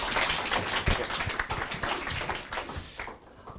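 Audience applause welcoming a speaker at a company lecture, a moderate wash of clapping from a gathered crowd that thins out toward the end, with no voices over it.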